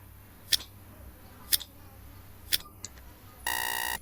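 A quiz countdown timer ticks in three sharp, evenly spaced clicks about a second apart, then a harsh buzzer bursts in loud and sustained at the end, with no voices present.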